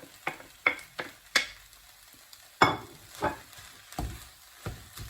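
Egg is stirred and chopped through fried rice in a crowded pan, making a series of separate scraping and sizzling strokes, close and fairly soft, with quiet gaps between them.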